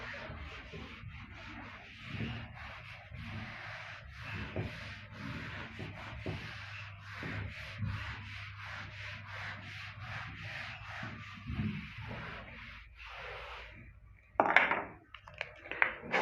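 Rhythmic rubbing strokes of an eraser wiping writing off a classroom board, steady and close, running continuously with a few sharper knocks near the end.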